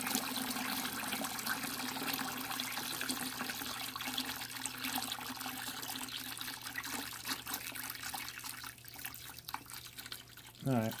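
Water runs steadily into a pot being filled to about two gallons for an electrolysis rust-removal bath for a Model T Ford transmission, a continuous trickling pour with a brief splash near the end.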